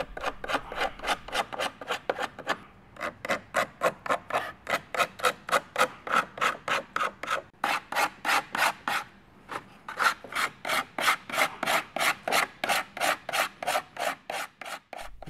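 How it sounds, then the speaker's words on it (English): Cured fiberglass resin is worked with a rasp and sanding, making a steady run of rhythmic scraping strokes, close and loud, with brief pauses between bursts. "Any rasping, filing, or sanding is best done during this phase."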